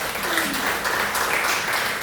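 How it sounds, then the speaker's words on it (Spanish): Church congregation applauding during a worship service, a dense steady wash of clapping filling the room for the whole stretch with no voice on top. "Vamos a dar un aplauso a la Reina que dio su vida,"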